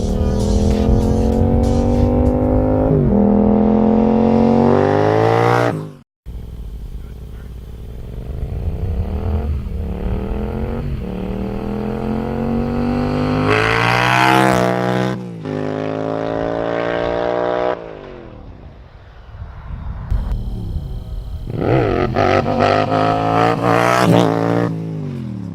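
A Yamaha FZ07 motorcycle with an Akrapovic full titanium exhaust revs hard through several rising gear pulls, each ending in a sharp cut and a drop back to a burbling idle, loud and close with no voices.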